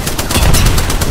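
Rapid automatic gunfire in Apex Legends, a loud close burst of several quick shots in a tight rhythm.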